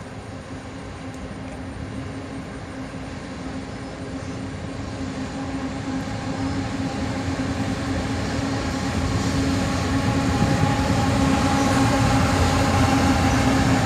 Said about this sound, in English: A single ET44AH leads this train